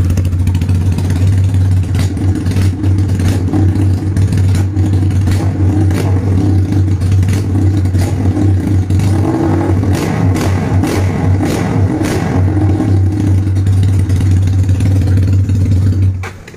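A custom motorcycle engine runs loud and close through its exhaust, holding a steady, throaty rumble with repeated revs, and no talking over it.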